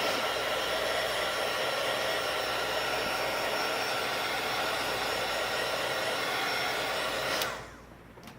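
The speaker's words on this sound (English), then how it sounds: "I'm just going to dry the ink a little bit" A heat tool blows with a loud, steady hiss, drying stamping ink on a card for several seconds before switching off abruptly near the end.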